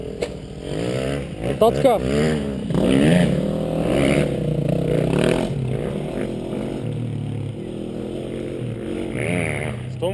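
Motorcycle engine droning and revving under throttle while riding, filmed on a helmet camera, with steady road and wind noise throughout and people talking and laughing over it.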